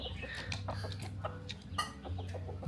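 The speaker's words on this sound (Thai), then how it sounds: "ที่นี่เขาเลี้ยงไก่ประมาณเนี้ยเนาะ" Chickens on a farm on Doi Suthep mountain in Chiang Mai cluck softly and repeatedly, close by and fairly faint, with short overlapping calls over a low background hum.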